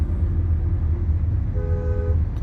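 A short car horn toot from a Tata Nexon EV sounds over a low, steady rumble, brief and fairly close.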